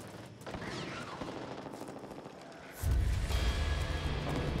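Video game gunfire in Back 4 Blood, with rapid bursts of shots crackling at a distance before a heavier, louder barrage kicks in toward the end, with no speech over it.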